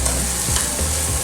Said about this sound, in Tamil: நம்ம நறுக்கி வச்சிருக்கிற 2 வெங்காயம் போட்டு நல்லா வதக்க போகிறோம்